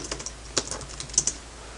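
Keystrokes on a computer keyboard entering an ipconfig command at a command prompt, a handful of quiet, sparse clicks with a pair of sharper taps near the end.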